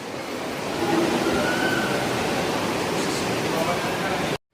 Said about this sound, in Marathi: पाण्याचा फ्लो जास्त आहे ना जरा